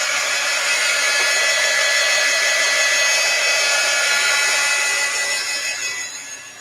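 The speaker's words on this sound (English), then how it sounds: "Holding the heat gun in my lap." A heat gun blows in a steady, loud broadband whoosh while drying an artist trading card pocket letter craft project, held close and running continuously before tapering off near the end.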